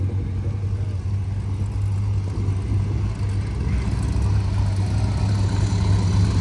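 A Citroën DS3 with a 1.6 engine idles with a steady low rumble, unchanging and close, with no talking, at a racetrack.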